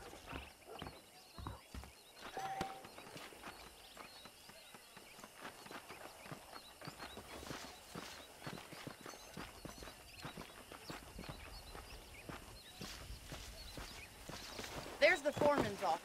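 Horse hooves clop steadily while riding in Red Dead Redemption, soft and continuous under ambient game sound, with a brief whinny-like flourish near the end.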